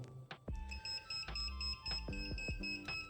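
An electrical socket tester beeps in a damp Italian annex under renovation, with a few short electronic tones among clicks, knocks and handling noise over a brief span.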